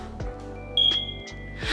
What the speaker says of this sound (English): It just keeps on beeping.